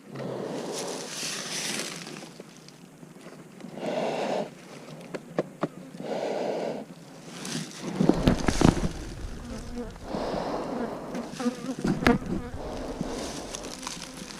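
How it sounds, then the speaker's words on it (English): Honey bees buzz steadily around an opened hive during winter beekeeping work, a dense close swarm hum that swells and dips with brief louder passes near the listener. "Got to keep these bees healthy."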